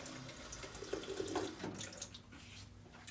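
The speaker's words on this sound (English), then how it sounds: "This water fountain happens to put out some pretty good tasting water too." Water from an outdoor drinking fountain runs in a steady splashing stream, fairly close and alone, with brief louder gurgles partway through.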